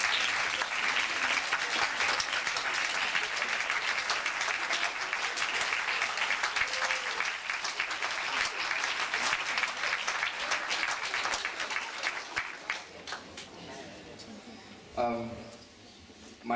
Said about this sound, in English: I suggest one more applause for our principal's dancing skills.